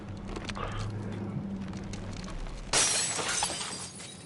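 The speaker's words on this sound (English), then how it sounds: "for it to make a glass shattering sound is highly unlikely" A bright, sudden glass shatter from the Tales of Arise video game bursts in after a stretch of low ambient hum, then trails off into tinkling debris.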